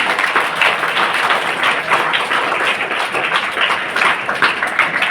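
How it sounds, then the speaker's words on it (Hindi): Loud, dense applause from a school audience honouring students at an Indian school event; continuous close clapping that holds steady for the full length. "आप सभी लोग इनके उत्साहवर्धन के लिए जोरदार तालियां"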